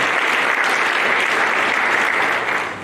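A large audience applauds steadily at a civic World Town Planning Day gathering in Kisumu County, Kenya, loud and dense throughout before easing slightly at the end.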